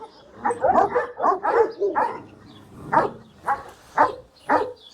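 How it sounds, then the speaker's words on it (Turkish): Kangal dogs on a breeding farm growl at each other in a string of short, gruff growl-barks, about eight bursts over five seconds, loud and near. "birbirine hırlıyor arkadaşlar"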